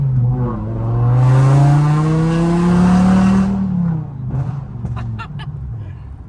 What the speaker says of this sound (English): First drive with the Spider-Man M5.